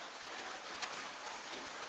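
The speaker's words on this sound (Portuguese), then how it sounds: "está chovendo aqui em casa" Rain falls outside a house as a steady, hissing patter of drops at moderate distance, even and unbroken from start to end, with no one speaking.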